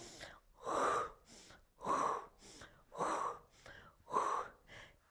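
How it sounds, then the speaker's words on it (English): Heavy rhythmic breathing during a Pilates leg exercise, with four strong inhale-exhale cycles roughly a second apart, close and audible with no talk over it. "we're breathing in and out with each one"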